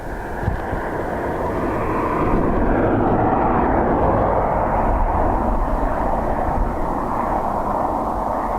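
A Ryanair jet airliner arriving from Liverpool at Dublin Airport on a windy day, its engine roar steady and loud throughout, swelling slightly partway through, with broad rumbling wind noise and no talk.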